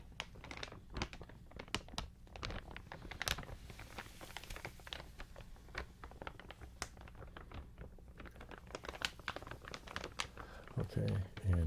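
A large, heavy crinkly object is being crumpled in a quiet room, giving a steady stream of close, dense crackles and crunches with lower, fuller rustles mixed in.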